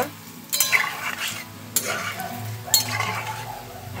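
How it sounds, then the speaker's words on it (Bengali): Palm fruit fritters (taler bora) frying in hot oil in a wok, a steady sizzle broken by three sharp clinks and stirring scrapes, with no voices. "তেলটা গরম হয়ে যাওয়ার পরে তেলের মধ্যে আমি দিয়ে দিচ্ছি বড়া।"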